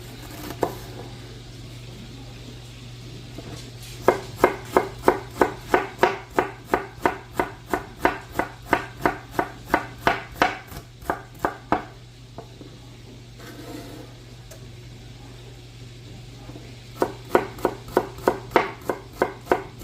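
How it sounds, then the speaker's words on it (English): A knife chops an onion steadily against a cutting board in quick, even strokes, pausing briefly twice before resuming, with a low hum underneath. "ideas and tips on how you cut your onion"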